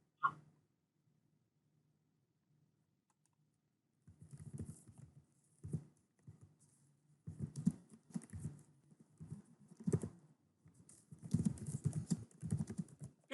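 Fingers tap on a computer keyboard in soft, irregular bursts of clicks, beginning after a long near-silent pause and growing busier toward the end.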